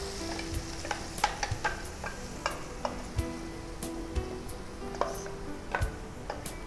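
Ground tomato goes into garlic frying in a pan and sets off a continuous sizzle. Stirring clinks and scrapes sound over it at irregular intervals, and no one speaks.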